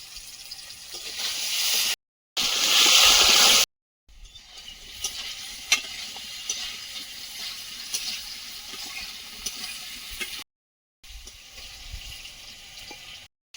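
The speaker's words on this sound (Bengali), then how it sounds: "আলুগুলো লাল লাল করে ভেজে নিয়েছি" Potatoes frying in a pan give a steady, close sizzle with faint scraping, broken by a few brief silent gaps.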